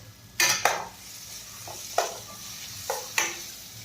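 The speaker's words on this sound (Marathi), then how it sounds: "टोमॅटो ही छान परतून घ्यायचा आहे आपल्याला" Tomatoes sautéed in a pan for Maharashtrian-style semolina upma, with a spatula stirring and scraping in sharp, repeated strokes over a soft background sizzle, heard up close with no talk.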